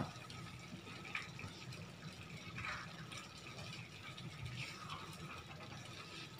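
Hot water poured into a pan of upma makes a quiet, continuous gushing and filling sound with faint splashes.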